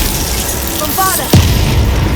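A Bombarda explosion spell in Hogwarts Legacy lands as a single sharp, punchy boom near the middle, rising out of busy game ambience after a brief tonal shimmer, close and fairly loud.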